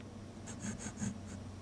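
Extra fine nib of a Majohn T5 fountain pen dragged upside down across paper, giving a few short, soft scratchy strokes in quick succession, close and quiet.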